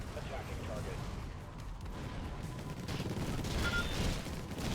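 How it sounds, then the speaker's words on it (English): Marines' gunfire as squads shoot aliens and an alien egg in the strategy video game Infested Planet, heard as a dense, continuous rattle of small booms and shots with rumbling explosions, steady and busy throughout. "And we're shooting everything up quite effectively."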